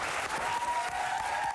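Steady applause from a studio audience on a Bulgarian TV show fills the whole short moment, dense and even, with no gaps.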